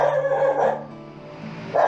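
A dog that is protective of its territory gives a couple of short barks nearby, fairly loud against a background hum.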